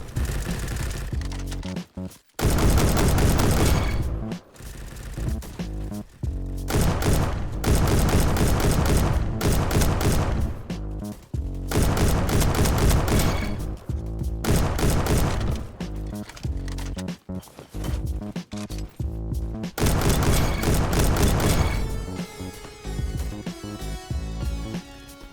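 M1 Garand and Mk14 rifles fire in a video game in loud, close bursts of rapid shots, broken by short silent gaps, with faint mechanical clicks near the end.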